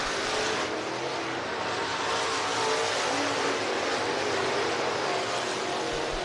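Race cars on a short oval track scream past in a dense, loud, continuous engine roar that rises and falls slightly as the field runs the closing laps, heard without talk.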